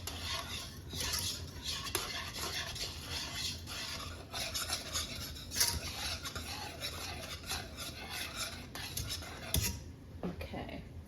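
A spoon mixes food in a bowl or pot, producing close irregular scraping and rubbing strokes with occasional clinks of metal against the dish over a low background hum.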